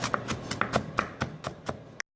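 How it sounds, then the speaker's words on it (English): Rapid knife strikes on a cutting board, about ten crisp, close chops in a steady rhythm as a sweet pepper is diced. "Dicing the sweet pepper."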